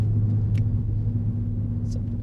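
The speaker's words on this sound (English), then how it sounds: "I have this cat back on here, and it's not that loud at all." A Ford Focus ST fitted with a cat-back exhaust drives along, its engine giving a steady, moderate low rumble with a constant road drone and no sharp revving.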